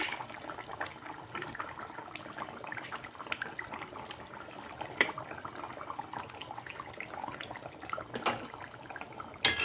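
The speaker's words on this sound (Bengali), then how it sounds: "এখন আমি মাছগুলো ছেড়ে দিচ্ছি।" Pieces of katla fish go into a boiling curry with potatoes; the liquid bubbles and gurgles continuously, with soft splashes and faint clinks over a steady simmer.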